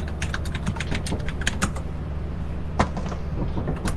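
Rapid keystrokes clatter on a computer keyboard, a dense burst of close clicks in the first half, then sparser taps with one sharper knock, no voices.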